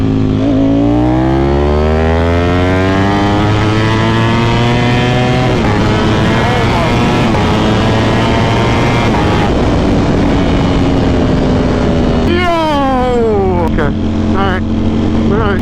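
A Ducati Panigale V4 SP2 motorcycle with a Stage 2 ECU flash revs hard through rising gears, the loud, close engine note climbing in long sweeping pulls with brief drops between shifts and a final high-pitched scream, while a voice is heard over it.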